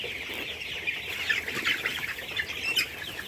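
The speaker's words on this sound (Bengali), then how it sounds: "খুব সুস্থ সবল ভালো মুরগিগুলো।" Tiger chickens on a farm cluck in a busy, continuous chorus, moderately close, with occasional sharper calls and brief wing flaps over a soft background hum, with no talking.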